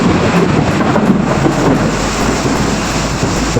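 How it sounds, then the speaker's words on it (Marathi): Heavy rain pours steadily on a village during a thunderstorm, a dense close roar with low rumbling thunder mixed in throughout, with no voices. "विजांचा कडकडाट."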